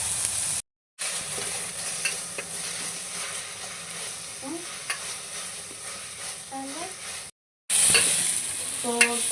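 Onions sautéing with salt in a pan for chicken curry, a steady close sizzle with occasional spatula scrapes, interrupted by two brief silent gaps, with faint background tones.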